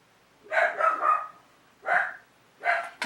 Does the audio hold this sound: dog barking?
yes